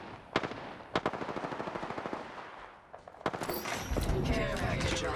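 Rapid bursts of automatic gunfire in Apex Legends Arena Mode on PS5, several sharp volleys in quick succession, loud and close, followed by a denser stretch of shots and clatter mixed with game noise.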